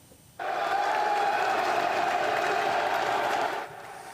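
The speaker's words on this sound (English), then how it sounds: "There was a burst of applause as the Pope arrived." A crowd at a Roman prison bursts into applause as the Pope arrives, a sudden dense wash of clapping that holds steady for about three seconds and then drops back to quieter background.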